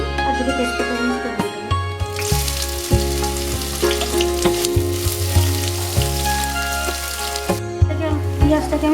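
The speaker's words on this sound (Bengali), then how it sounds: "পেঁয়াজটাকে আমি হালকা করে ভেজে নিয়েছি, বেশি ভাজা দরকার নেই।" Chopped onion and bay leaves fry in plenty of mustard oil, giving a steady, close sizzle that lasts throughout, with a tonal background running underneath.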